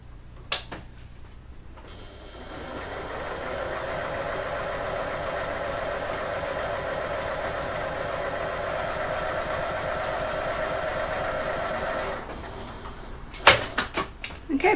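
A sewing machine topstitches along a fold of a fabric wallet, running steadily at a close, even pace for about ten seconds, framed by brief handling clatter at the start and end.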